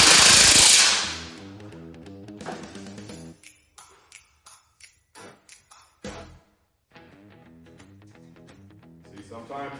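Rivet tool setting rivets in aluminum panels: a burst of loud air noise followed by a series of sharp metallic pops and clicks in uneven succession, close by.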